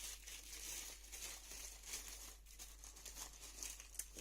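Black tissue paper being unwrapped gives off soft, continuous crinkling and rustling with small crisp peaks, close by and quiet over a low steady hum.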